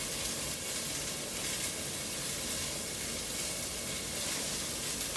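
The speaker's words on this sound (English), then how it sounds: "of onions, celery, and bell pepper. We're just going to saute that a little bit" Onions, celery and bell pepper sautéing in a pan for jambalaya give a steady, even sizzle, a close, continuous hiss that holds level throughout with no voices.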